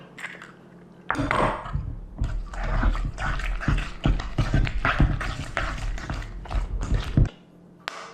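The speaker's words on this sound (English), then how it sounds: "Next thing I'm going to do is add one of these eggs." An egg being mixed into a homemade Christmas pudding mixture in a bowl gives repeated clattering and scraping of a spoon, steady and close, ending after about seven seconds.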